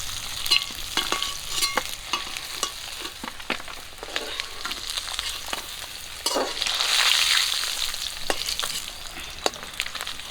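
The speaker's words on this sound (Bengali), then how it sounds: "গরম তেলে দিয়ে দিচ্ছি আলু আলুগুলো একটু ভেজে নেব" Potatoes sizzle steadily in hot oil after fish heads were fried in the same pan, with scattered stirring scrapes and clicks and a brief swell of louder sizzling midway, close and continuous with no talk.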